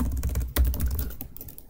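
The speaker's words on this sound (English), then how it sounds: "So to start, let me type sudo" Rapid keystrokes on a computer keyboard while entering a terminal command to restart a stopped MySQL service, with a dense run of clicks and one heavier key strike partway through, heard close and alone.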